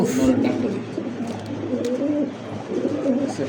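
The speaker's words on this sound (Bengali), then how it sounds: "আজকের ভিডিওর শেষ আকর্ষণ হচ্ছে অ্যান্ডোনেজিয়ান দামাসিন অ্যান্ডোনেজিয়ান দামাসিন ধামাসিনের একটা জোড়া" A pair of Indonesian Damascene pigeons coo in soft, repeated low rolling calls, close by, with someone speaking over them.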